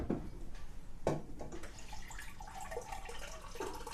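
Water pours into a drinking glass indoors, a steady close splashing trickle lasting several seconds with a few louder bursts near the start.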